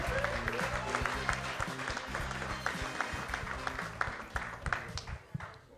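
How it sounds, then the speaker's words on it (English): A live audience at a Clubhouse Live event with Green Bay Packer Josh Jones gives the night's contestants a steady round of applause, dense clapping lasting several seconds over a low musical bed. "How about a big round of applause for tonight's contestants?"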